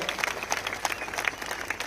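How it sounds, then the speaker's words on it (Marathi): Applause from a public gathering where a development blueprint film is presented to citizens, heard as a steady patter of many hands clapping, moderately loud, with some irregular louder claps and no talk. "आपण जोरदार टाळ्या वाजवून त्यांचं मनापासून अभिनंदन करावं"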